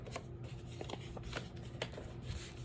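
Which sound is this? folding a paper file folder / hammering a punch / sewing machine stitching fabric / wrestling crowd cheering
folding a paper file folder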